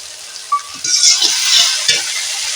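Garlic and onion sizzle in hot oil as a cumin and coriander paste is stirred in, giving a bright, steady frying hiss with a few soft scraping stirs close by.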